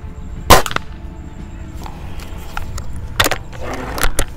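A Cometa Fusion Galaxy air rifle firing pellets: a sharp, loud crack near the start, then another crisp report about three seconds later, with small clicks and faint rustles between them.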